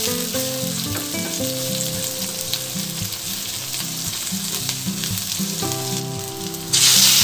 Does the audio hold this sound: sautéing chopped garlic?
yes